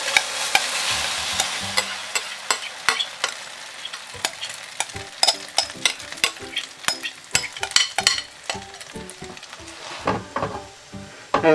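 Chinese omelette mixture poured into a hot, oiled pan, sizzling loudly at first and settling into steady frying, with many sharp clicks and scrapes of a utensil against the pan throughout.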